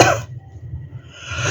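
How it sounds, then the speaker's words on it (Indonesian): A person coughs in one sharp, breathy burst, then a softer rasp follows a moment later, close and fairly loud, with no talking. "Aku minta maaf ya, aku masih batuk."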